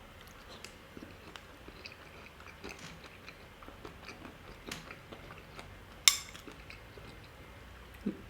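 Crunchy bran and ancient grains cereal is chewed close up, with a steady run of soft crunches and a few sharper bites standing out, and nobody talks.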